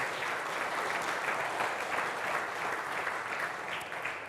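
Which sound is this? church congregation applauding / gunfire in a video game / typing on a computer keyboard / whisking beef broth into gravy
church congregation applauding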